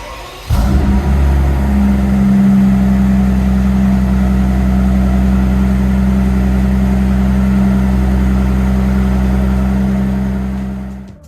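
A Mercedes G65 AMG W463 with a V12 engine cranks and fires up, then holds a loud, deep, steady idle with a slight swell before fading at the end.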